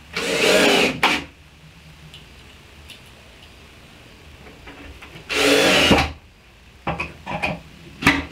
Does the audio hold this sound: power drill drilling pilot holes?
yes